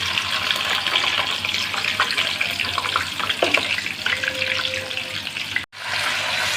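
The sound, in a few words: chicken frying in oil with garlic and garam masala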